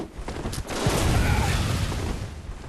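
Heavy gunfire in the dark action game Bloodborne, a loud burst of booming shots and rumbling impacts that swells after a short quieter lead-in and then stays dense for the rest.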